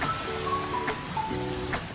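A large water wheel at a river museum in Saitama throws water down in a steady, close splashing roar like heavy rain, continuous through the clip with no talk over it.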